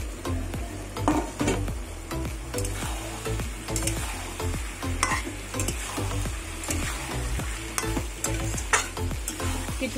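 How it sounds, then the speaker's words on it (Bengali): Taro (mankochu) frying and being stirred in a pan for a catla fish curry: a steady loud sizzle with repeated scraping stirs and clinks of the spatula, no voices. "এবার মানকচুগুলো দিয়ে দেবো ভাজা।"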